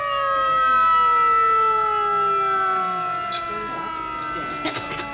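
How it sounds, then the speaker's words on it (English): A loud prison alarm siren wails steadily, its tone slowly sliding lower and fading slightly over several seconds, with a few faint knocks and clatters near the end. "I wish they turned that bloody siren off."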